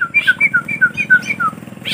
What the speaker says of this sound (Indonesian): ini sudah balik burung jalak, burung kutilang ya